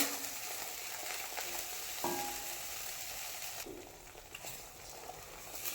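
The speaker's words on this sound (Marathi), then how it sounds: "पहा छान असं मिक्स करत राहायचं इथे गॅसची फ्लेम मिडियमच आहे" A spiced mixture for Kolhapuri white rassa fries in a pan over a medium gas flame, giving a continuous soft sizzle with occasional spoon scrapes as it is stirred, no talk.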